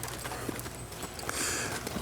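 Hooves of a ridden horse clip-clop at an equine training session, faint rhythmic footfalls under a hissy, noisy background.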